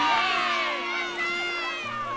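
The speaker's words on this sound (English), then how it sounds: "And these are the villagers shouting." Cartoon villagers shouting together in a children's animated story, a continuous crowd of excited high voices that fades slightly after the first moment but keeps going throughout.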